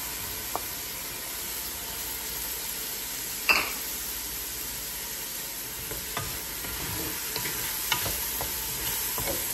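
Garlic, ginger, onion and tomato sauté in a hot pan with a steady low sizzle, a few stirring scrapes and clinks scattered throughout, one sharper knock near the middle.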